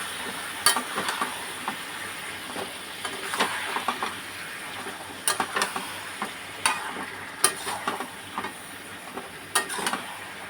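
Chicken curry being stirred in a pan after flour has gone in, with scraping and clinking of a spoon against the pan over a soft sizzle, in irregular bursts, moderately close and without talk.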